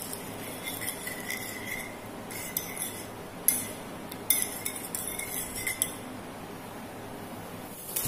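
Ramen noodles and seasoning stirred in a pot make light metallic clinks and utensil taps over a steady background hiss.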